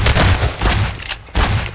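Three heavy shotgun blasts in Garry's Mod, each a loud booming burst with a short decaying tail, spaced at roughly even intervals with no talk over them.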